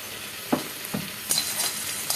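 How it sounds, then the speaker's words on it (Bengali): Garam masala fries quietly in a pan with a soft background sizzle. A few light scrapes and clinks from stirring come through close by. "একটু বেশি করে ভেজে রাখছি গরম মশলা।"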